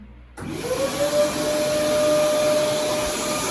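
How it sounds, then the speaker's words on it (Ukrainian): A vacuum cleaner starts up abruptly after a short silence and settles into a loud, steady whine and suction roar as it picks up debris, including paint flakes. "Я його просто візьму і пилососом приберу."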